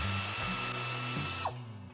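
Close, steady ratcheting of a hand wrench working bolts and nuts off an underside cover on a Porsche, with rapid clicking that stops near the end.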